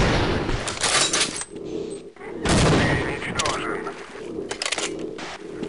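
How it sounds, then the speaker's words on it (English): A 50 cal rifle fires in the game Half-Life: Delta Particles with heavy, booming shots that arrive in a few separate bursts, each one followed by a rumbling tail and some mechanical clatter. "It replaces the crossbow, but you get a 50 cal."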